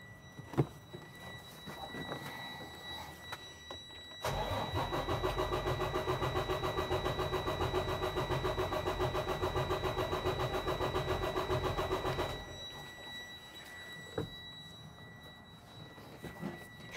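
A Detroit Diesel DD15 truck engine cranks over on weak batteries during a relative cylinder compression test, a loud rhythmic starter churn lasting about eight seconds between quieter stretches of background hum, with no voices.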